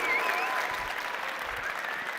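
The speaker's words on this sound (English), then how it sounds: "Get a round of applause." Audience at the Slush 2022 finals applauding, a continuous even wash of clapping from a large crowd, moderately distant.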